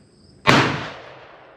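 A single sharp shot from a Ruger Vaquero single-action revolver firing .38 Special, loud and close with a sudden crack that rings off into a long decaying tail.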